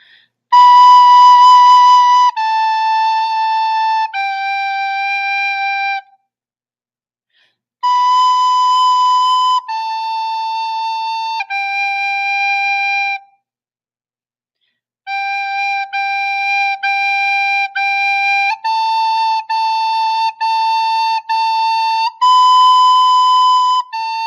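A recorder plays "Hot Cross Buns", a short, simple stepwise melody in three phrases separated by brief pauses, with clear, pure-toned notes, each sustained and evenly paced.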